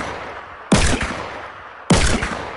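Two loud revolver shots in a video game, sharp cracks spaced about a second apart, each with a short decaying tail.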